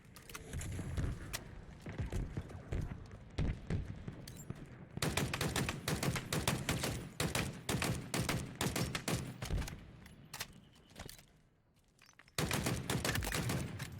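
Rapid machine gun fire in the video game Halo Infinite, loud bursts of dense rattling shots near the listener, pausing briefly before resuming at full intensity.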